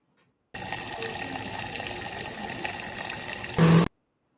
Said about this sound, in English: Y'all see that water right there?